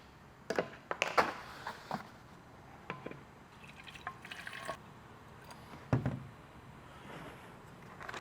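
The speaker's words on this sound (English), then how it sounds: "For the Tack solution, pour distilled water into the Tack bottle until it reaches 800 ml." Distilled water is poured into a bottle to mix a tack solution for paint protection film installation, heard as quiet, irregular splashes and drips spread over several seconds.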